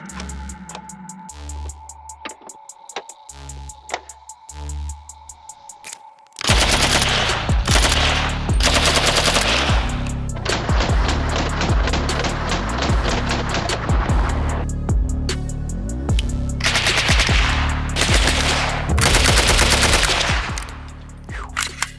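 A PPS-43 submachine gun fires loud, close bursts, with a few spaced rhythmic shots at first and then sustained rapid automatic fire echoing outdoors for the remaining fifteen seconds.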